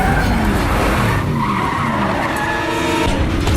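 A car in a video game skids hard with loud squealing tires and a revving engine as it runs over a boss, a sustained screech lasting several seconds with no talking.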